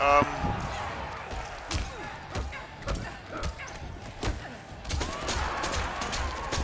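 Several sharp gunshot bursts from the fighting game Mortal Kombat 11 go off in a quick, irregular series, punchy and close, with some impact noise between them.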